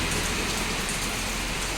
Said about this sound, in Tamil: எங்கள் இடத்துல மழை பெய்துட்டு இருக்கு.